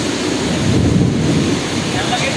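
A violent storm of wind and rain lashes the area during a sudden kalbaishakhi cyclone in Bhola district, a loud, dense roar with low rumbling and buffeting gusts right against the microphone.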